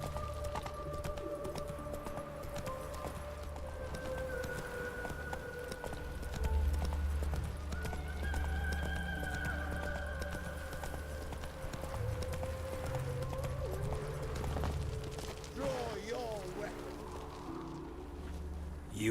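Roach, a horse in The Witcher 3, gallops in a steady clip-clop of hooves with game music and ambience running beneath and brief speech over it.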